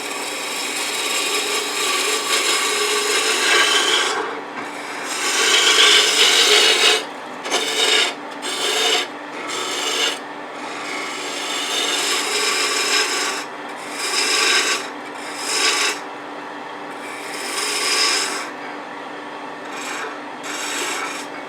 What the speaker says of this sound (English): I'll just use the spindle roughing gouge again